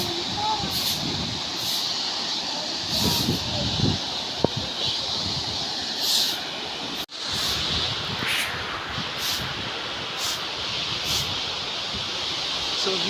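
Ethipothala waterfall pouring from above: a steady, broad roar of falling water fills the scene continuously, with wind buffeting the microphone and no pause in the rushing flow.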